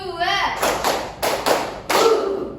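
A classroom of children doing the 'tepuk semangat' clapping pattern, sharp claps in grouped bursts with short pauses between, fairly loud and close, with voices chanting along.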